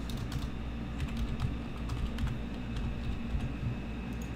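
Someone types steadily on a computer keyboard while entering account details, a run of quick, close clicking keystrokes with short pauses, over a low background hum.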